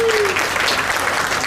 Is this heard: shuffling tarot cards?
no